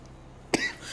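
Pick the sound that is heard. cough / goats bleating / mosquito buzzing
cough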